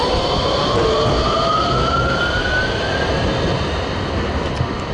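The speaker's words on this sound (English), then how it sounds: "So we hopped on a tram to get from Lace Market to Nottingham" A steady rumble of a tram in motion in Nottingham, with a rising electric whine over continuous wheel and track noise.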